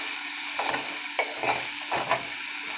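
Boiled chickpeas stir-fried in a pan for kadalekalu usli, with a steady sizzle under repeated scraping strokes of a spoon, roughly one every half second, close and moderately loud.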